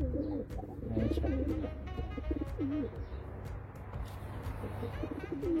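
Soft, repeated pigeon coos roll along in low, throaty phrases, close by, over a steady low hum with some faint background noise.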